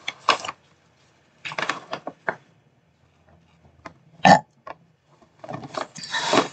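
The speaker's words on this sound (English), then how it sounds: "That was a quick one. Early burp." A single short, abrupt burp breaks a mostly quiet room, with scattered soft rustling and handling noises before and after.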